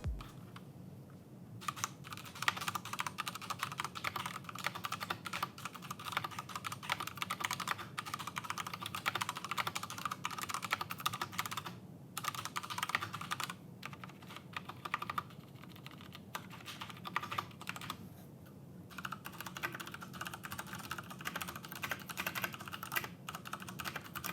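Continuous typing on mechanical keyboards fitted with Cherry MX brown and red switches, close and fairly quiet, with rapid clacking keystrokes in bursts separated by brief pauses.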